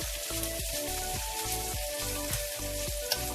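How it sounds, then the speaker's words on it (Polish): Bacon sizzling with onion in a frying pan while cooking żurek, a steady dense crackle and hiss with periodic stirring or scraping, close and continuous, no talk. "I boczek ma się w cebulku smażyć"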